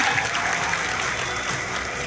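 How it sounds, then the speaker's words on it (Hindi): Applause from an audience in a meeting hall at an anniversary event, a dense, steady clapping that stays loud and close for a couple of seconds with no voices over it. "और एक बार आरसीएम वाली ताली होनी चाहिए"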